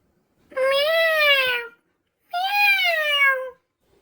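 Two drawn-out cat meows, close and clear, separated by a short pause of silence.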